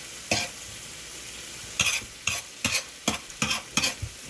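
Spinach and peppers fry in a pan while being stirred: a soft, steady sizzle runs underneath as a series of sharp scraping stirs come one after another, close and fairly loud, with no voices.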